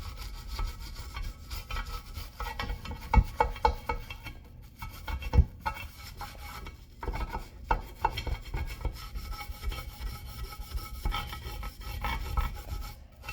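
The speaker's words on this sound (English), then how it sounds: "It's a soft bristle brush, so it's not going to do a whole lot of scratching." A soft bristle brush scrubs a wet Edelbrock air cleaner, a steady close rasping rub with uneven strokes and small knocks running throughout.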